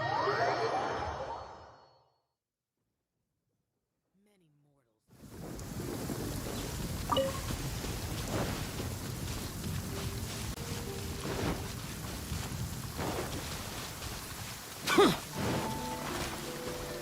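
Steady rumble of rain and wind washing over an outdoor scene in the video game Genshin Impact's Inazuma region after a short silence, with a few brief louder gusts; no distinct thunderclap stands out.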